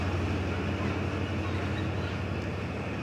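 Steady low rumble of an old Vietnamese passenger train rolling along, a continuous droning roar with no breaks, no voices.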